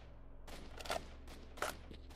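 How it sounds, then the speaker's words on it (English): Faraway gunfire in Stalker: Shadow of Chernobyl, a few faint, sharp shots spaced irregularly over a quiet background hiss, sounding distant, with no voices. "I can hear shooting in the distance"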